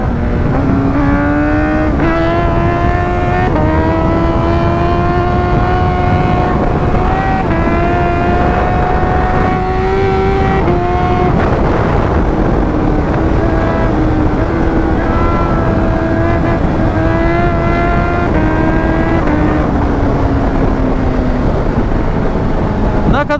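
A Honda CBR1000RR SP motorcycle engine roars continuously at high revs at night, with pitch climbing and dropping as it shifts through gears in quick, crisp quickshifter changes.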